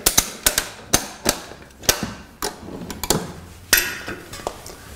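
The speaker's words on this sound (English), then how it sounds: "tighten the ratchet." A ratchet strap hooked to the front door of a manual drum trolley with electric lift is cranked tight, giving a run of sharp, loud metallic clicks and clacks in an uneven rhythm, close and without talk.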